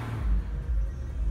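A Jeep Grand Cherokee Overland's engine rumbles low and close, swelling twice in quick revs before settling, with no one talking.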